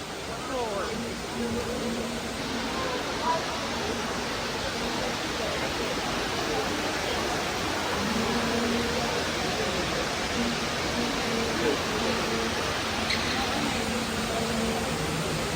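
Water flows steadily in Dubai, a continuous broadband wash that persists throughout at moderate level, with faint voices and background activity underneath.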